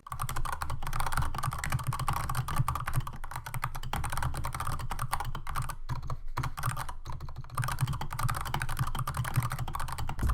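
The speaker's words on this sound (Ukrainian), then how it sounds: "портал The Verge виклав звук тайпінгу клавіатури" Rapid clacking of a mechanical keyboard being typed on, close and crisp, with irregular bursts of keystrokes and short pauses.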